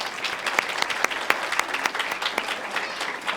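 Audience clapping for middle school speech contest contestants, a steady dense round of applause filling the room, sustained and fairly loud throughout.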